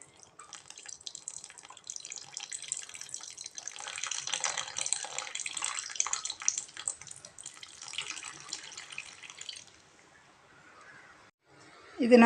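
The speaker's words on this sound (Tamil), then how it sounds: "அதனால் கொஞ்சமாக கரைச்சிட்டு தண்ணி மட்டும் மேலாப்பில் விட்டுக்கிறேன்" Tamarind water pours into a pot of sambar as a steady, splashy trickle that runs for several seconds and then tapers off, followed by a brief louder clatter at the end.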